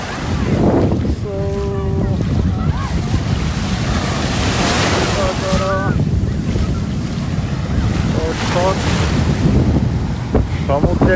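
Ocean surf washing in at Miami Beach, heard while walking through the waves, with strong wind buffeting the microphone and a steady roar throughout.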